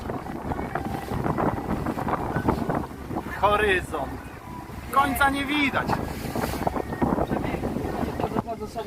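Sailboat moving across Lake Bełdany in steady wind, with constant wind rush and water noise running throughout; someone speaks over it for most of the stretch.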